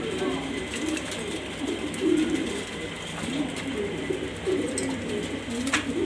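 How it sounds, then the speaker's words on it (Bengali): Pigeons kept for sale coo in soft, low, rolling phrases that repeat throughout, under a constant background hiss, with faint voices in the surroundings. "দেখতেই পারতেছেন মাশাআল্লাহ কবুতরগুলো"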